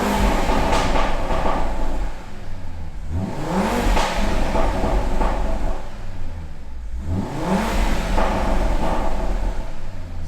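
A tuned car engine, stock rated at 361 horsepower, revs up loudly twice with a pause between, each rise and fall of pitch swelling over a low steady rumble.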